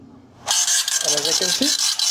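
A cash register's built-in printer starts up after a reset, giving a steady mechanical whirring and ratcheting feed that runs on continuously, with someone talking briefly over part of it.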